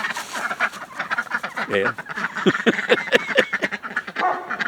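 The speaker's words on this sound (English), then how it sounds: "Good morning, ducks." Ducks quack in a farmyard in a cluster of short honking calls at close range, with someone talking to them over the top.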